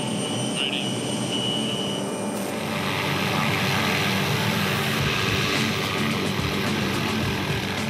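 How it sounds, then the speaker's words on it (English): A helicopter hovers close to high-voltage power lines during electrical line maintenance, a loud, steady, unbroken engine and rotor roar that fills the whole stretch without pause. "It's up to Tracy to maneuver the chopper as close as he can"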